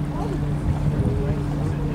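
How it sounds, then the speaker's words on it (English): Lake cruise boat engine running on main throttle aboard a motor vessel between Lakeside and Bowness, a steady low hum with a tonal drone under wind and water noise, continuous and close. "Side thrusters off now on the main throttle."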